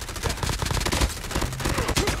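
Rapid automatic gunfire in a multiplayer shooter game, loud and close, a dense burst of repeated shots fired in quick succession with no pauses.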